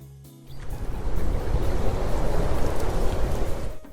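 Heavy pouring rain in New York City at night, a dense, loud, steady wash of noise that rises sharply after a brief quiet start and continues without pause.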